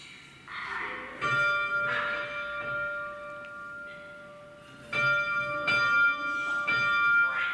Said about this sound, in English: Okay, we'll ring the bell.